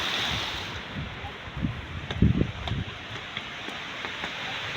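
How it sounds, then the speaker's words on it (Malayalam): Water falling from an upper level in Al Buraimi National Park, a steady broad rushing wash heard close, with gusts of wind buffeting the microphone and a few soft thumps in the middle. "ഇവിടെ മേളിൽ നിന്നുള്ള വെള്ളം ഇങ്ങനെ താഴേക്ക് വരുന്നു"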